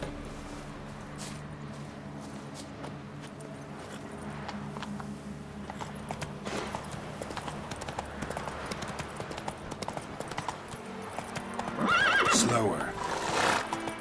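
Roach, a horse in The Witcher 3, clops along in a steady rhythm of hoofbeats, ending in a whinny and snort, while a voice speaks over the game sound.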